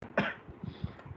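A single short cough, followed by a few softer throat-clearing bursts, close and fairly quiet during an online economics class.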